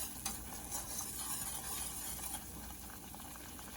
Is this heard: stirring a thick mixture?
yes